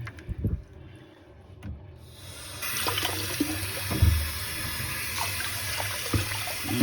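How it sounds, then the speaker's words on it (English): Water drains out of a container after a Coulter pine cone has been brushed and rinsed while crafting a candlestick. A few knocks and handling sounds come first, then a steady gurgling rush of draining water that continues to the end. "We'll let the water out."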